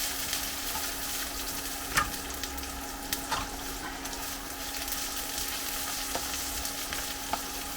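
Onions and garlic fry in a pan for prawn chow mein, a steady close sizzle and crackle with a few faint utensil taps scattered through, and no voices.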